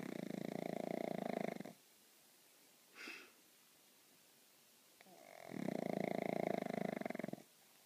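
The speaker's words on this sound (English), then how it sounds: "Our new snoring pup." A new puppy snores in two long, loud rhythmic bursts, each held for a couple of seconds, with a quiet pause and a brief soft snort between them, close to the listener.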